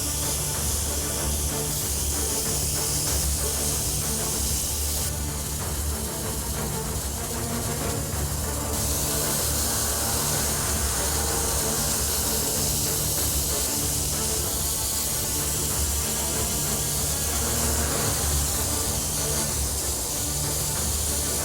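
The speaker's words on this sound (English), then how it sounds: "So I'll start off on the edges and just let my overspray travel up onto the fire" An airbrush sprays paint in a steady, continuous hiss while a soccer ball is painted with flames, the airflow loud and close with slight shifts in intensity and no voices.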